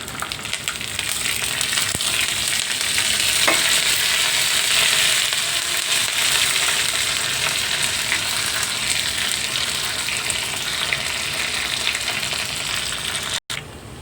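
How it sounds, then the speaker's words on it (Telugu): Cumin, mustard seeds, dried red chilli and curry leaves fry in hot oil for an Andhra-style horse gram sambar, giving a continuous loud close sizzle with faint crackles and one sharp knock near the end. "అలాగే జీలకర్ర ఆవాలు వేసుకుందాం. అలాగే ఎండుమిర్చి, కరివేపాకు."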